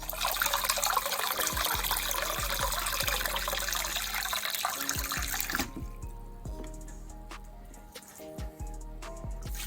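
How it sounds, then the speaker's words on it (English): Sea moss is washed in water, with loud, continuous running and splashing for several seconds that gives way to quieter sloshing and dripping, close by. "I'm gonna wash it until it gets clean."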